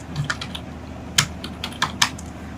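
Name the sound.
typing a password on a computer keyboard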